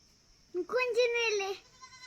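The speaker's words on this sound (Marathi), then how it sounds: "मित्रांनो शेळ्या आपल्या चरून आलेल्या आहेत" A goat on a farm, back from grazing, lets out a single loud, close bleat of nearly a second, wavering in pitch, with quiet background before and after.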